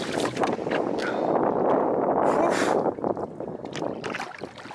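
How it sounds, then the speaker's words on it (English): A westerly wind buffets the microphone while canoeing on a lake in late October, a loud rushing roar that swells and eases, with faint water and paddle sounds beneath. "So I've got a westerly wind just since we are going east"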